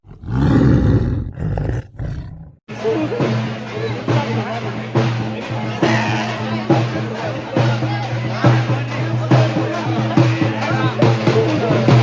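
A tiger roars in a Telangana village comedy scene for a festival, with a loud deep roar at the start followed by crowd babble and voices talking over a sustained low rumble.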